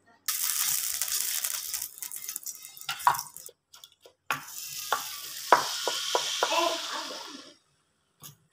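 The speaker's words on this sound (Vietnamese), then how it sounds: "giờ mình đem đi chiên bánh" Batter for a Vietnamese bánh xèo pancake hits hot oil in a pan and sizzles loudly and steadily, with a brief pause and then a second long sizzle marked by sharp spatters and scraping clicks.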